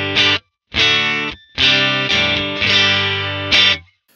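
A dry, crisp electric guitar played clean through a Blackstar St James amp with all controls at noon, plucking short, choppy chord stabs in a funky rhythm, close and alone.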